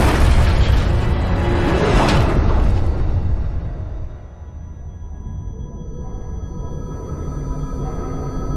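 A loud, roaring boom with crashing debris as an aircraft crash-lands in the video game Halo Infinite swells and rolls for several seconds, then fades into a low hum with faint mechanical tones.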